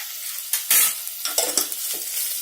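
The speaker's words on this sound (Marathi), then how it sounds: "मीठ मिक्स करून घ्यायचंय व्यवस्थित सगळं।" A spoon stirs potato sabji with crushed peanuts and salt in a pan, close scraping strokes over a soft oily sizzle, with a few sharper clinks against the pan and no talking.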